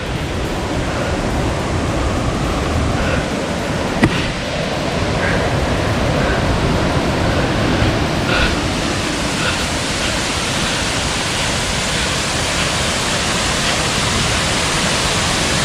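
Yung Thong Waterfall in Na Yung–Nam Som National Park, Udon Thani, Thailand, roars in a loud, steady rush of falling water that fills the whole scene without pause, with a single brief knock partway through.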